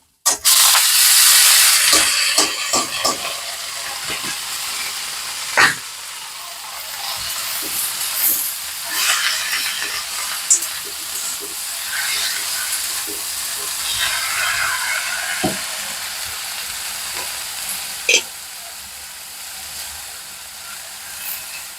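Saag greens hitting a hot pan in a home kitchen, a loud hiss bursting at the start, then settling into a steady sizzle with occasional sharp pops and spatters.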